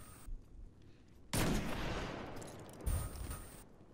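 Gunfire in the video game Destiny on the Altar of Flame map during Trials, a loud burst of shots with rolling echo and a second blast near the end, quiet surroundings otherwise.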